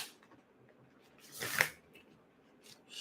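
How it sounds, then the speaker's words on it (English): Tarot cards shuffled by hand during a psychic reading, a soft riffling swell that peaks midway, quiet and close with no talking. "I'm just shuffling here"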